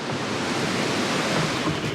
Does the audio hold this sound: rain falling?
yes